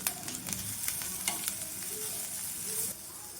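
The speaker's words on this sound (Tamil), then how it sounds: "இப்போது தேங்காய் துருவல் சேர்த்து சும்மா ஒரு நிமிஷம் வதங்கினா போதும்" Onions and grated coconut sautéing in a pan for a ladies finger (okra) poriyal, a steady close sizzle with soft scraping stirs and a few spoon clicks, no talk.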